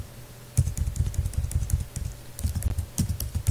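Rapid keystrokes clatter on a computer keyboard as a project name is typed in, a close, steady burst of clicks with a short pause midway and no voices.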